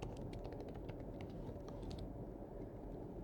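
Password typed on a computer keyboard, a quick run of light, faint key clicks over a steady background hum.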